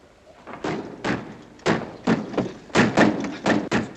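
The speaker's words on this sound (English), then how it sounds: "Dick, lock the door." Several sharp wooden thuds and knocks in quick irregular succession, like a door being shut and locked in a tense 1950 wartime scene in the Philippines, fairly close with no speech over them.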